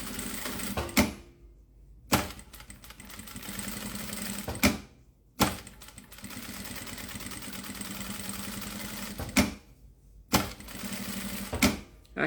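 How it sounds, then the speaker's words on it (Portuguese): A sewing machine stitches a zipper onto a fabric bottle holder in long, steady runs, each burst of rapid mechanical chatter broken by short pauses and clunks as the work is adjusted, with no talking. "Então, vou levar aqui para a máquina."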